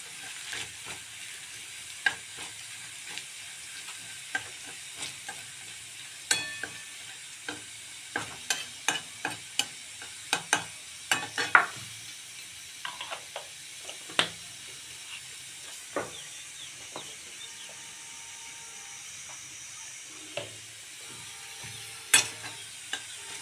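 Beetroot with garlic and chili sizzles and fries in a pan, a steady low hiss broken by many sharp crackles and spatters, close and alone without talk.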